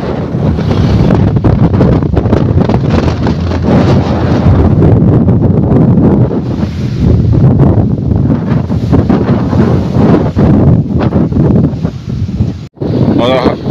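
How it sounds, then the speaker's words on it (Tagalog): Strong wind buffets the microphone in heavy, continuous gusts, loud and close throughout, with a voice faintly underneath. "Sobrang lakas ng hangin."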